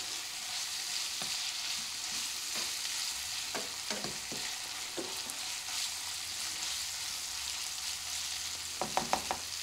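Seasoned meat sizzles in a pan with a steady, close crackle, broken by occasional scraping stirs and a few sharp utensil taps near the end.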